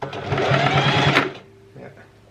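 A sewing machine stitching in reverse on chair upholstery, a fast close mechanical whirr for just over a second before stopping, with a person talking over it.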